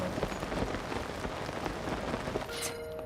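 Rain in the video game The Legend of Zelda: Tears of the Kingdom, a steady, dense patter of drops on surfaces lasting the whole stretch, with a brief chime-like game sound near the end.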